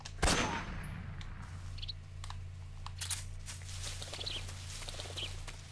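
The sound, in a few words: sniper rifle gunshot in Metal Gear Solid 3 video game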